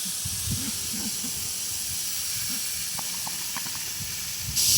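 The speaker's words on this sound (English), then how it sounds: "They don't seem to mind getting sprayed either for some reason." Steady broadband hiss of water spraying from a hose onto pastured pigs outdoors during morning chores, continuous at moderate level with faint low grunting-like thumps beneath and a brief louder surge at the end.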